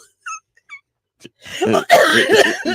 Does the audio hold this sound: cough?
yes